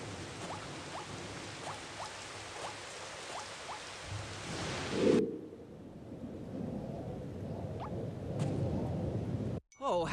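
Rain and thunder in the video game Battleblock Theater: a soft steady rain hiss with a low thunder rumble, then the rain drops out to a quieter dark ambience before a brief cutoff at the end.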